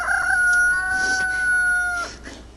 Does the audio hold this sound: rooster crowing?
yes